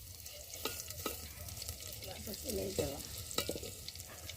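Oil is poured into a village cooking pan and food fries and is stirred, giving a quiet, continuous sizzle with scattered sharp scrapes and knocks of a spoon against the pan.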